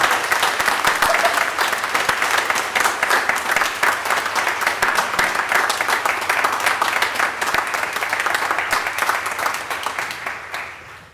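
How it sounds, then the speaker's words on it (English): A congregation at a Unitarian Universalist church Sunday worship service claps steadily in sustained, dense applause for about ten seconds, then tapers off toward the end. "I think applause is appropriate"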